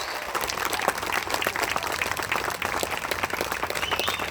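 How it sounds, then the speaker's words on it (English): Steady applause from a crowd at a back-the-police rally in Danvers, dense clapping that holds at an even, fairly loud level throughout. "A round of applause for them that wear the badge."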